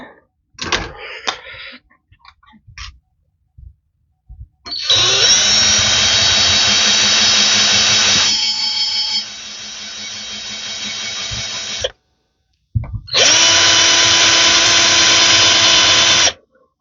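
A power drill whirs loudly in long bursts, stopping and restarting, its motor pitch steady and close, drilling into a Maxgo 33K vape beside its circuit board.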